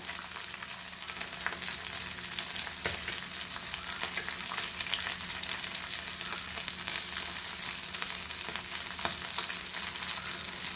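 Rava-coated Goan anchovies shallow-fry in oil, giving a continuous loud bubbling sizzle with sharp crackles and spits throughout, close to the pan and with no talking.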